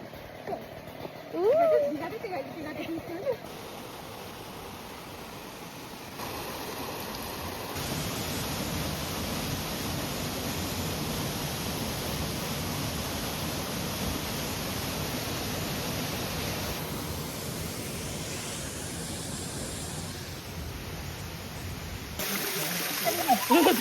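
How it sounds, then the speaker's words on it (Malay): Steady broadband rushing of flowing water in a canyon in Cebu, Philippines, continuing for about twenty seconds with a faint voice briefly at the start and end. "Ada dengar bunyi air"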